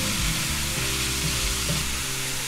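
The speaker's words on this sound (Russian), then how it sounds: "Обжариваем." Ingredients for mapo tofu, including tofu, cabbage and pepper, fry in a pan with a steady, close sizzle that holds throughout, with faint stirring and no talk.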